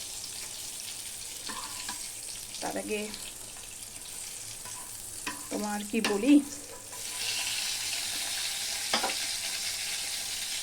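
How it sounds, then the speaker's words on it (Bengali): Fish frying in a pan in a home kitchen gives a steady low sizzle through the whole stretch, with someone talking over it, a few clatters and stirring sounds, and a louder hiss toward the end. "মাছ ভাজা প্রায় হয়ে যাচ্ছে"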